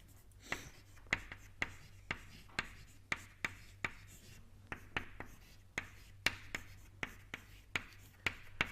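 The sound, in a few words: writing an equation on a board during lecture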